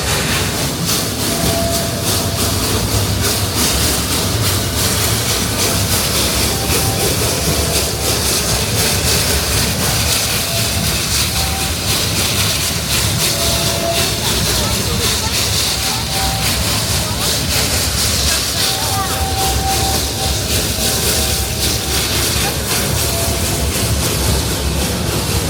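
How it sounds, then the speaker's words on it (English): Steam train climbing an 8.5% grade through a Santa Cruz redwood forest, a constant loud rumble and rattle from the laboring locomotive and cars, with occasional squeals, continuing throughout under a person talking. "Oh, the train's using a lot of power to get up here"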